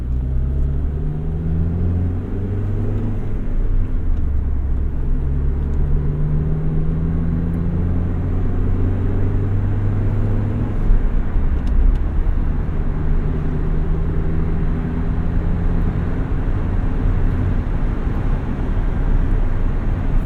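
A 1991 Honda Civic Si EF hatchback heard from inside while driving: a steady low engine and road drone with gently rising and falling engine tones, continuous and fairly loud throughout, with no talking.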